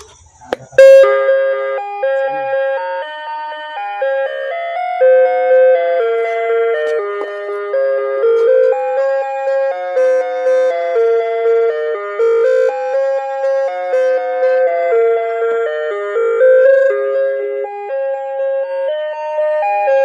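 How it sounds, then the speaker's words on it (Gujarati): A 35-year-old wall clock chimes a steady, bright melodic tune of bell-like notes, loud and close, ringing on for about twenty seconds with no voices. "અમારી પાસે એક 35 વર્ષ જૂનું ઘડિયાળ છે અને હજુ પણ એના ટકોરા પડે છે"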